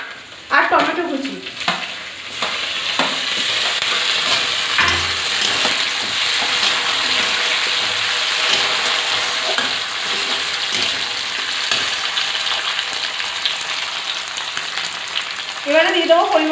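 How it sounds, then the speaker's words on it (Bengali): Onions frying in a pan with slit green chillies and chopped tomato, a steady close sizzle throughout with a few stirring scrapes near the start and end, no talking. "পেঁয়াজের মধ্যে দিয়ে দেবো চেরা কাঁচা লঙ্কা আর টমেটো কুচি"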